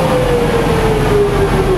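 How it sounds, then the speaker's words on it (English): The fans on a Bourgault 7000 air seeder run steadily, giving a loud continuous whooshing roar with a rising whine over the rumble, held without pause throughout. "I'll engage the fans to show you RPM."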